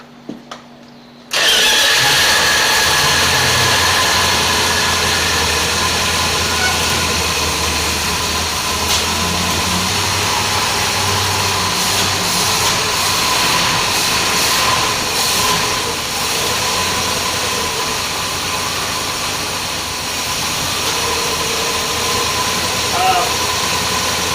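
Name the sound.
1979 Chrysler Cordoba engine starting and idling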